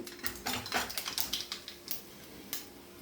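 Mustard seeds spluttering in hot oil for a tempering, a rapid run of sharp close pops and crackles that thins out to scattered pops, no talk.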